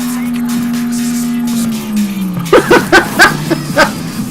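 A car in the Burnout Paradise racing game drives at high speed with a loud, steady engine whine that drops in pitch, then gives way to a series of sharp bursts as a voice talks over it.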